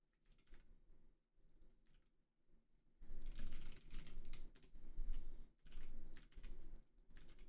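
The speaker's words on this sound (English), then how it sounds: "that was a lot of typing" Fast clattering of keys on a computer keyboard during game development work, soft and sparse at first and then dense, loud bursts of typing separated by short pauses, close, no talk.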